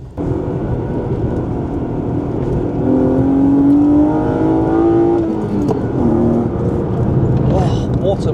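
Modified BMW 328i E36 engine revving on a country B-road, a steady drone that swells into a rising, revvy pull midway before easing off, with voices faint underneath.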